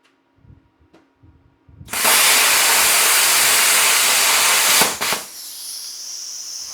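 A Bestarc BTC500DP 10GEN plasma cutter set to 45 amps slices through a thicker metal piece: a loud, steady, close hiss lasts about three seconds, then cuts off abruptly, leaving a quieter airy hiss.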